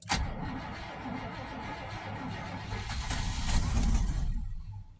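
A 2000 Chevrolet K2500 GMT400 pickup engine cranks and catches after the key is cycled, then settles into a loud, close, rough running rumble that swells slightly before cutting off near the end.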